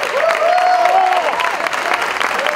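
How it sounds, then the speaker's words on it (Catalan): A crowd at an award celebration for a disco's third anniversary claps loudly and continuously, a thick wash of hands with a tonal whistle or voice rising above it early on. "demano un fort aplaudiment pel Josep Maria"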